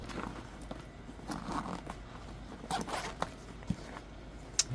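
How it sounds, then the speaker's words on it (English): Zippers on a Feiwood fishing tackle backpack are pulled open and shut in several quick, short rasps, close and fairly quiet, with light handling scrapes between. "Zippers feel good and snug."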